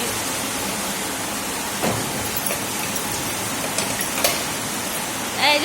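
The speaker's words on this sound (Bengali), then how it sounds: "এই তো বৃষ্টি নেমে গেছে, কত বৃষ্টি বাবারে" Heavy rain pours in a steady broad hiss around the listener, even and unbroken, with a few faint knocks and bumps rising briefly above the wash.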